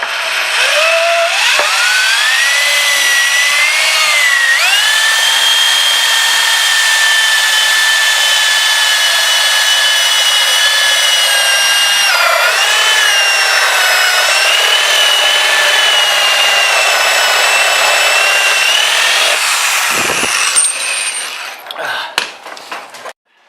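A loud high-pitched power tool whines steadily for about twenty seconds, pitch wavering as it bites, then winds down with a few clattering knocks.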